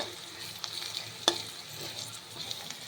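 Onions and garlic sautéing in a pan, a soft steady sizzle with occasional stirring scrapes and one sharp clink of a utensil, fairly quiet and close.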